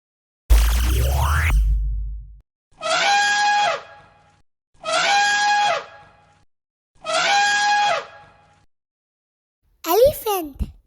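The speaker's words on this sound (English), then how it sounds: "Elephant." An elephant trumpets in three long, loud blasts of similar length, set apart by brief silences. A rising sweep comes before them and a short burst follows at the end.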